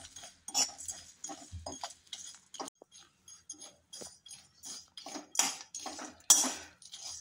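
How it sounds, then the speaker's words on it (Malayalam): Whole spices for garam masala roast in a pan on low heat, giving quiet, scattered clinks, taps and rattles with short gaps between them. "ഈ സിമ്മാക്കി വെച്ചിട്ട് അതിനെ ഒന്ന് നന്നായിട്ട് ചൂടാക്കുക"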